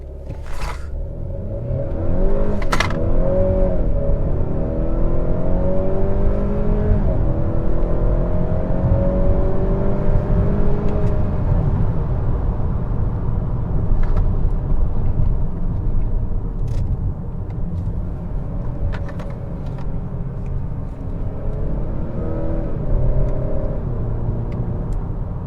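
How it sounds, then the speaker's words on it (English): A 2021 Honda Accord 2.0T Touring accelerating, heard from inside the cabin as a rising engine drone with gear changes and a swelling road rumble, steady and loud over about twenty-five seconds, no talking. "we should do one more acceleration"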